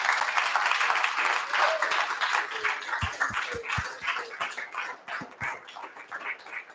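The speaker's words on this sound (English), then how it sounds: "please give one more warm round of applause for Dr. Leslie King Hammond." A warm round of audience applause at an art talk on Black printmakers, steady dense clapping that carries on for several seconds and slowly thins, with a few louder individual claps near the end.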